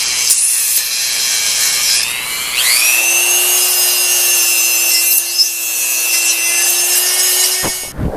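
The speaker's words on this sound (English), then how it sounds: "now I got a little sand bit on my Dremel here. We're going to go ahead and just clean this up" A Dremel rotary tool fitted with a small sanding bit smooths a cut slot in a 2006 Honda Accord's interior panel, a loud high whine that spins up and holds steady for several seconds before cutting off.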